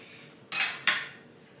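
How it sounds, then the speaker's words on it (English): Metal spatula pressing steak patties in a skillet, two quick scraping clanks close together, each a short bright hiss of metal on the pan, then quiet. "And we're going to take our nifty little spatula. We are going to flatten them."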